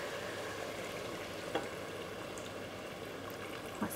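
Chicken jalfrezi sizzles and bubbles in a pan after boiling water is poured in, a steady close hiss of frying liquid with a couple of brief knocks of stirring.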